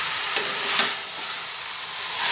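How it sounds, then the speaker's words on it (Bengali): Cashew and peanut paste being stirred into a sizzling mixture in a pan, a steady fry hiss with a few soft spoon scrapes near the start, close and moderately loud, no voices. "ভালোভাবে নাড়িয়ে দিচ্ছি।"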